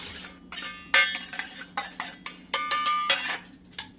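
A spoon clinks and scrapes against a bowl while turmeric, chili powder, salt and masala are stirred into yogurt, giving a string of sharp metallic taps in an irregular rhythm, close and fairly quiet.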